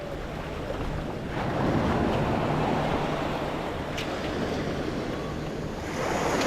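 Ocean waves break on a Gulf beach at Pass-A-Grille, a loud, continuous rushing surf with a swelling crash in the middle and again near the end, mixed with gusty wind buffeting the microphone.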